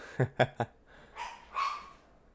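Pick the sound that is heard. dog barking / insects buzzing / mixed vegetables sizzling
dog barking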